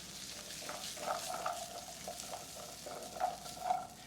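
Vegetables sautéing in a pan over the fire for a roasted poblano potato soup, a steady close sizzle with a few brief stirring clatters and no talk.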